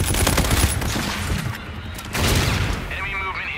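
Sustained automatic gunfire in the Infinite Warfare shooter game, loud dense bursts with booming impacts, continuing under radio-style voices calling to each other.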